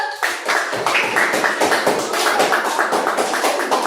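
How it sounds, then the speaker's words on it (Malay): A classroom of students clapping their hands together in a loud, steady, rhythmic beat that carries on unbroken, close and filling the room. "tepuk tangan please ni dulu"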